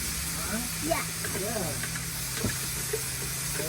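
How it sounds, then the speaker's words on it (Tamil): Chopped onions hiss and sizzle in a pan during outdoor cooking of mutton rolls, a steady frying crackle with scattered pops, while a voice speaks over it. "வெட்டி வச்ச வெங்காயத்தை போடலாம்"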